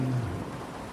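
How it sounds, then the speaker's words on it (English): Steady rain falls as a dense, even hiss through the whole second, with a brief low tonal hum at the start and no voices. "I don't like the rain"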